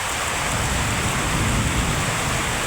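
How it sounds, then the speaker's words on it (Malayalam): Heavy rain falls outdoors in a dense, even roar of drops, steady and unbroken, with no voices. "ഈ മഴ കണ്ടു കഴിഞ്ഞാൽ പിന്നെ ഇറങ്ങാതിരിക്കാൻ തോന്നില്ല"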